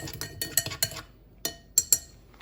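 A metal spoon stirring sugar into ground Turkish coffee in a small cup, giving a quick run of bright clinks against the sides, a pause, then a few more separate taps, close and crisp with no talking.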